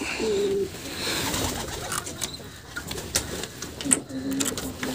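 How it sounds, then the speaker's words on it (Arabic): Pigeons coo in a loft, with a low rounded call near the start and another toward the end, amid scattered rustling, fluttering and small knocks. "نخش بقى نبص على الحمام"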